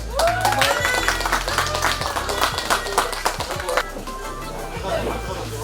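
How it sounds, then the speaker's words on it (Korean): Spectators at the opening ceremony of the 2019 Korean water ski association president's cup clap together in a lively, uneven burst of many hands, carried over a low, steady background tone. "박수 한번 주세요"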